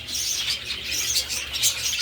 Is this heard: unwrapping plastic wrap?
no